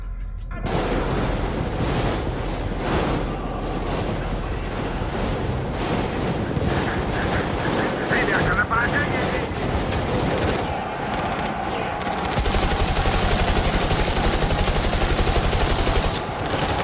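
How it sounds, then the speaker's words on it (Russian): Continuous heavy gunfire in the video game Metro Exodus, with machine-gun bursts and booming blasts, loud and dense throughout, growing more intense near the end. "стрельба"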